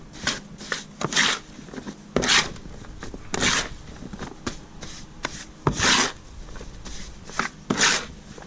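Cement mortar with extra portland is mixed for a stair riser repair, producing repeated close gritty scraping and rasping strokes in irregular bursts with short pauses between.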